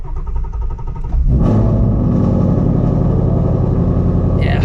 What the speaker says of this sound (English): But let's get a cold start.